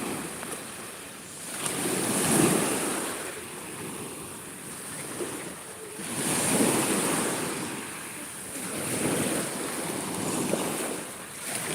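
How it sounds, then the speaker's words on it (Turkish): Sea waves rolling onto the beach at Kuşadası, Turkey, swelling and receding in three broad surges over steady wind-blown surf, with no one talking. "Bakın dalga çıktı ve bir, bir anda hemen azaldı."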